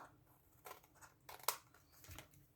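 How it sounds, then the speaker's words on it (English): Scissors make a few quiet, quick snips as they trim paper edges on a handmade stamp card, with three or four short crisp cuts spaced irregularly against a near-silent background. "and I just clipped off the edges."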